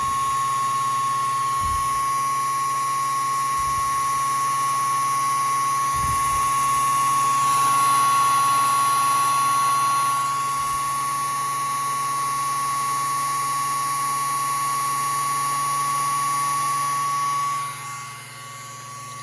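A 1963 Kenmore floor buffer runs with a steady high-pitched motor whine and a constant droning hum, close and loud, with a few low thumps early on and the tone dropping slightly near the end.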